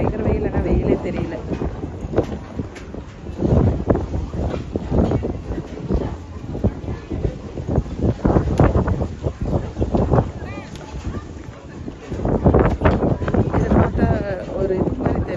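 Steady wind on a 56th-floor rooftop pool deck buffets and rushes across the microphone, gusting louder at moments, with a voice talking intermittently underneath.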